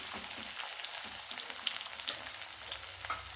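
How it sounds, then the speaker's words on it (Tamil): Small onions, some whole and some halved, frying in hot oil for a fish curry, giving a steady close crackling sizzle with scattered pops and faint stirring, no talk. "சின்ன வெங்காயத்தை போடுறேன்"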